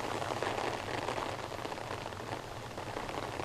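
Steady rain patters on a natural pond in Jeju, a dense continuous hiss of drops with no pauses throughout.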